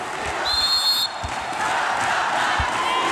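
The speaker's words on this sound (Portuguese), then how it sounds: "já tem pressão da torcida do Minas" Volleyball crowd of Minas supporters at a South American club championship final roars in a steady, dense wash of cheering and chanting, with a short whistle-like tone early and a few thumps underneath.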